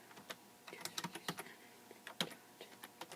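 Keys clatter on a computer keyboard as a command is typed to capture a Raspberry Pi camera image, a quiet run of irregular clicks and taps with short pauses and no voice.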